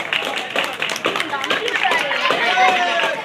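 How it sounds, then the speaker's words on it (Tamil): Audience applause at the 15th anniversary ceremony of a Chennai association, as a guest is honoured on stage. Dense, steady clapping fills the whole stretch, with a voice over a loudspeaker faintly mixed in. "ஒரு உற்சாகமான கைத்தட்டல்."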